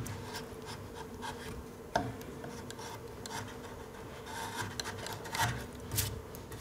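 Wood hand-carved for a carnival mask, with soft repeated scraping and rubbing cuts of a carving tool on wood, close and quiet, in a steady irregular rhythm with an occasional light tap.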